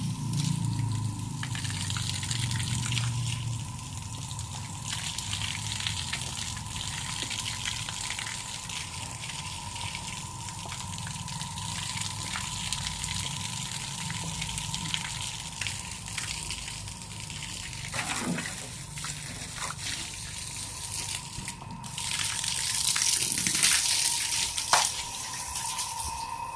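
Water gushes steadily from a pipe while an electric pump hums at a constant pitch underneath, continuous and close, with no voices.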